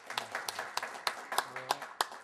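Scattered claps from an audience ring out in a loose, uneven rhythm, about eight sharp claps close by, with voices murmuring underneath.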